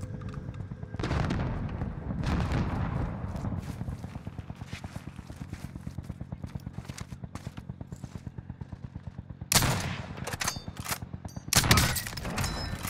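Gunfire in a battle-royale video game match on Fortune's Keep, with steady rapid automatic shots running through the middle and louder, sharper bursts of shots near the end, mixed with game noise and no talking.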